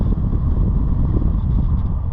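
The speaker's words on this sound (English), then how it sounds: "Bet this is going to be extremely windy." Heavy microphone wind buffets a camera with no wind protection during a ride on a Onewheel Pint electric board, a loud, continuous low rumble filling the short stretch.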